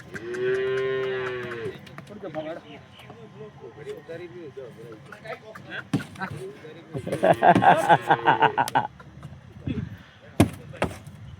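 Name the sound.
cow mooing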